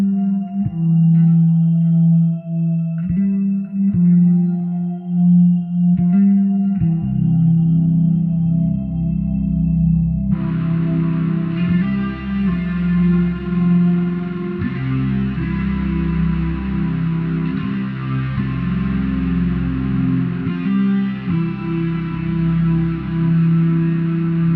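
An electric guitar played through a Quad Cortex with chorus, delay and shimmer reverb rings out steadily, with a lush, wide wash that thickens partway through as the shimmer swells.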